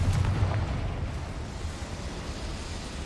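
A Confringo blasting spell explodes in Hogwarts Legacy, a loud rumbling blast at the start that rolls on as a dense, sustained low roar through the whole moment.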